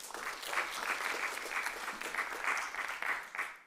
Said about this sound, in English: I can tell by your applause